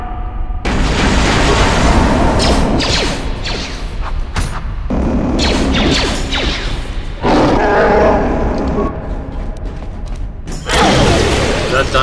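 Iron grenade blasts in the Star Wars game KotOR, with heavy booms and roaring bursts in loud, repeated waves separated by brief drops, amid grunts and crashing combat effects.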